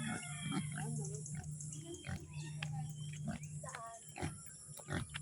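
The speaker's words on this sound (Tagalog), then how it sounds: "kakatayin dito yung isang baboy" A farm pig about to be slaughtered grunts and squeals in short repeated bursts, close and fairly quiet, with people talking around it.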